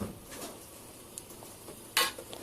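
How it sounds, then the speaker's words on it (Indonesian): Chicken is stir-fried in a pan: a utensil scrapes and taps quietly against the metal under a faint sizzle, then one sharp clank rings out near the end. "Kita gongso sebentar."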